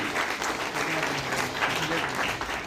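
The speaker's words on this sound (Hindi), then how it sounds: "इसलिए मैं चाहूंगा एक बार जोरदार तालियां हमारे कुसुम जी को" An audience at an award ceremony claps loudly and continuously, a dense wash of applause with faint voices underneath.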